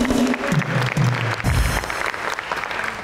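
Studio audience of a Pakistani talk show applauding for Yasir Hussain, a full burst of clapping under a voice and music at first, then continuing steadily on its own.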